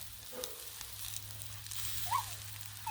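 Tomatoes and other vegetables sizzle on a flat-top griddle in a soft, steady crackle, faint and continuous with a brief higher squeak partway through.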